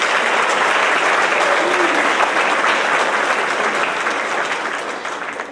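An audience at a middle school awards ceremony applauds, a dense, loud wash of clapping that holds steady for several seconds before tapering slightly.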